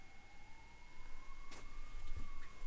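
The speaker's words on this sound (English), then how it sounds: "You think that sounds like an American ambulance?" Ambulance siren wailing at a distance, a slow rising tone that holds steady across the whole stretch under faint traffic rumble and room noise.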